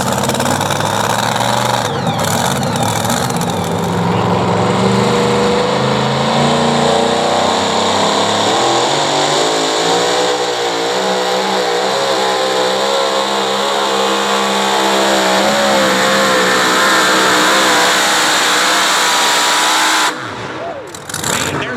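A pulling truck at the OSTPA Truck & Tractor Pull at Dragway 42 in West Salem, Ohio, roars at full throttle down the track. The engine runs loud, close and unbroken for about twenty seconds, its pitch rising and wavering, then cuts off abruptly near the end.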